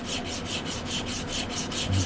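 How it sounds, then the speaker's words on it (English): Hand sanding a knife handle with sandpaper: steady back-and-forth rubbing strokes in a quick even rhythm, close and moderately loud, with no voices. "Alright, starting on the hand sanding now."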